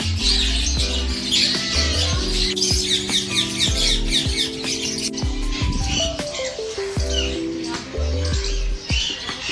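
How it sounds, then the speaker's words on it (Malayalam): A dense flock of birds chatters and squawks continuously at Kankaria Lake in Ahmedabad, loud and close, over steady tonal background sounds. "കണ്ടമാനം കിളികളുണ്ട്."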